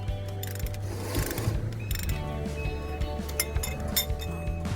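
A ratchet with a 19 mm socket works loose an excavator track bolt, giving metallic clicking and clinking over a low steady machine hum, moderately close and without talk.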